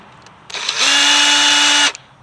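An impact wrench works on the spark plugs of a 2000 Acura 3.5 RL, one loud, close, steady burst of high-pitched motor whine lasting just over a second, starting and stopping sharply against a quiet background.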